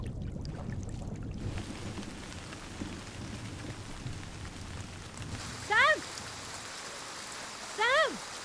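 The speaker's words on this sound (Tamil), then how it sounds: "மழையில நனைஞ்சிட்டு இருக்க" Steady rain patters on surfaces as someone is drenched, a dense hiss that fades slightly near the end. Two short chirping bird-like calls cut through above it late in the clip.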